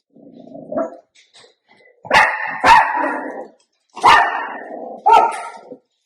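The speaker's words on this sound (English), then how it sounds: "Silly dogs." Dogs bark loudly in several sharp bursts, with a softer whine or growl at the start and pauses between barks.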